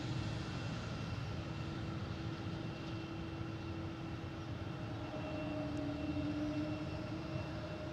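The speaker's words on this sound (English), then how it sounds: "we got Aer Lingus coming in from Shannon, landing on 22 left" An Aer Lingus airliner inbound from Shannon lands on runway 22 left at Boston Logan, a steady broad jet rumble holding at moderate distance throughout with no talk.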